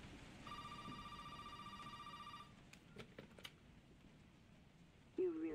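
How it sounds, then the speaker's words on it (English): A telephone rings in the horror video game Resident Evil 7, a steady electronic trill repeating for a couple of seconds, then stopping, followed by faint clicks and a short tonal sound under low background noise. "Phone's ringing."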